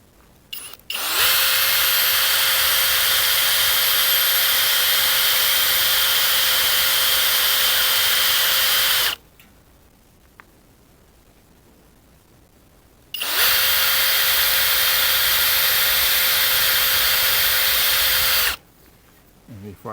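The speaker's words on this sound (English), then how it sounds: "I have the drill set up with a 3/16 drill bit for those 3/16 rivets" A power drill with a 3/16-inch bit drills through rivets on a mini excavator's rear cover in two long steady bursts, whining at a constant pitch, with a pause of quiet between them.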